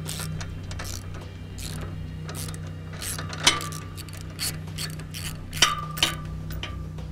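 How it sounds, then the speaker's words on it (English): A 3/4 inch socket ratchet clicks while removing the roller bolt on a boat trailer's deluxe roller bunk, giving a steady run of close, light ratcheting ticks with a few sharper metallic clinks over a constant low hum. "Using a couple 3/4 inch sockets, we can simply just go ahead and remove the bolt that holds the rollers in place."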